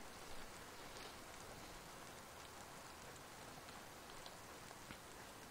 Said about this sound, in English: the rain is just horrible in this game